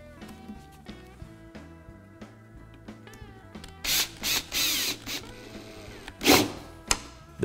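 Screws are driven through 1/4 inch stock into the edge of a router table, with a few short loud whirring bursts of a drill driver following softer mechanical clicks and handling noise, close by.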